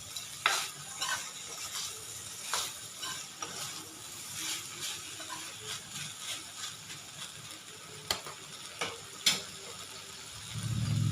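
Ingredients for a liver kofta curry sauté in a pan, a soft low sizzle under repeated scraping and clinking of a spoon stirring, faint and close with irregular sharp taps.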